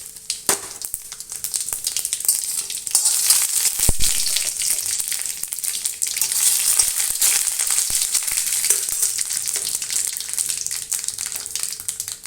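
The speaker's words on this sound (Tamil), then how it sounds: "கடுகு உளுத்தம்பருப்பு நல்லா பொரிஞ்சு அடங்கிடுச்சு." Mustard seeds, urad dal and a dried red chilli frying in hot oil in a pan, a steady close sizzle with scattered popping crackles throughout, no talk.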